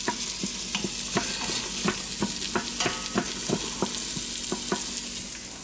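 Bratwurst sizzling in butter with onions, stirred with a wooden spoon, makes a loud constant fry hiss with regular spoon knocks and scrapes against the pan.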